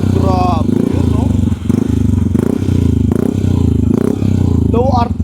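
A Yamaha Mio i 125 scooter fitted with a HUN Pipe V2 exhaust revs loudly and close up, its engine note rising and falling in repeated throttle blips with a steady low rumble throughout.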